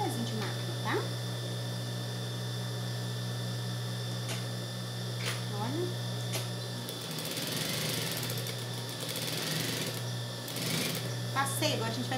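A sewing machine runs a finishing seam along the edge of fabric for a diaper-cover overall, a steady close mechanical whir with faint clicks, while someone talks over it.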